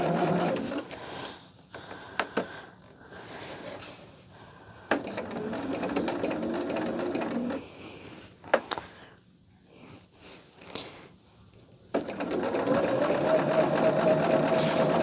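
A domestic sewing machine stitching thin quilt fabric charms runs in several bursts of steady motor whir with needle clatter, pausing between runs and restarting with sharp clicks, close and alone.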